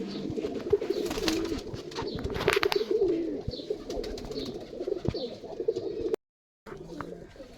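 Pigeons coo repeatedly in low, rolling calls, among them a red-eyed golden hen and a teddy cock, with other birds chirping faintly over a steady background; a brief dropout interrupts near the end.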